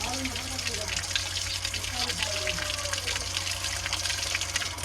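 Cold water gushing steadily from a pipe or pump at a farm field after digging, used for bathing; a continuous, loud rushing flow with a faint voice underneath.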